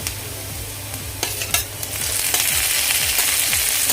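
Chopped tomatoes and golden-browned onions sizzle in a pan, with a steady frying hiss that grows louder partway through and repeated scraping strokes of a spoon stirring them, no voices.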